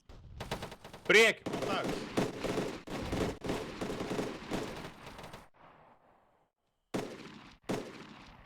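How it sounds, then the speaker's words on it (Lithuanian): Gunfire in the video game Arma 3 cracks out in rapid bursts and single loud shots across the first half, then stops, with a few later shots and brief speech. "Iš kur šūvi čia?"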